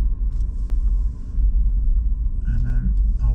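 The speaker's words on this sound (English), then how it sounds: "I'm just gonna drive round and round in circles" BMW i3s electric car circling slowly in winter, heard from inside as a steady low rumble of road and tyre noise with faint motor whine, loud and close throughout.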